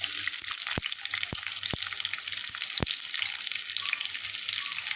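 Onions frying in hot oil with whole cloves and cardamom in a pan, a dense constant sizzle with several sharp brief clicks from a spoon or ladle tapping the vessel, alone without voices.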